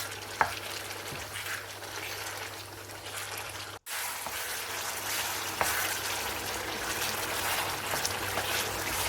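Beef karahi meat frying in a pan, giving a steady close sizzle with a few light pops and a brief break in the middle, no talking.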